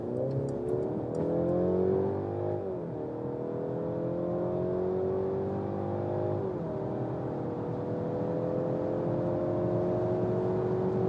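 A car engine drones steadily while accelerating, its pitch rising gradually and resetting at gear shifts, heard from inside with constant road hum.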